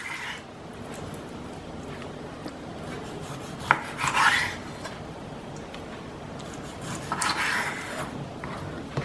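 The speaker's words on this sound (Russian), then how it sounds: "Куриную грудку я буду нарезать вот такими полосками." A knife cuts raw chicken breast into strips on a board, giving soft scraping strokes with two louder, brief rasping cuts, fairly close, with no speech.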